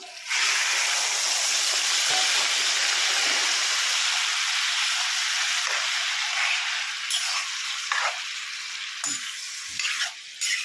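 Cleaned raw prawns, washed with salt and turmeric, drop into a hot pan for gongura prawn curry and burst into a loud, dense sizzle that holds steady, then eases slightly as a spatula stirs with a few scrapes.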